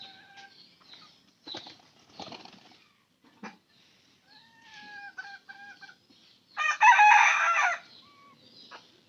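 Chickens on a homestead cluck in short scattered calls, followed by a louder, rough crow-like burst near the end, all fairly close with quiet gaps between.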